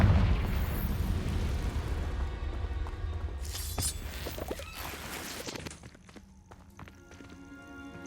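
Confringo explosion spell in the Hogwarts Legacy video game, a loud crashing blast with shattering debris that fades into quieter game sounds and a few clattering hits.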